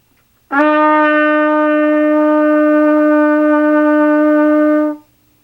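A single sustained trumpet note played with the first and second valves down, steady and bright with strong harmonics, held for about four seconds before stopping cleanly.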